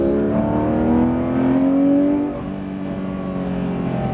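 Porsche GT3 RS engine re-accelerating on the race track at La Ferté-Gaucher, a close, loud, rising engine drone that climbs in pitch and then eases off.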